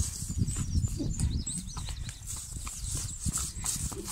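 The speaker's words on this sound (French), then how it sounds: "Depuis le temps que je voulais un cheval qui puisse être avec Nono H24 au pré." A horse moving in a pasture, with its hooves clopping in an uneven rhythm against steady outdoor background noise, close by.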